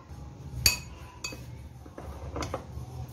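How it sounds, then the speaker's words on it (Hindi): A spoon clinks against a bowl while spice marinade with zarda colour, black pepper and salt is mixed for spicy chicken charga: one sharp clink, then a few lighter taps and scrapes, close and fairly quiet. "पहले हम इसको अच्छे से मिक्स कर लेते हैं।"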